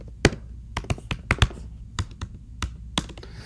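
Typing on a computer keyboard at close range: a dozen or so irregular key taps and clacks, some in quick bursts, against a quiet room.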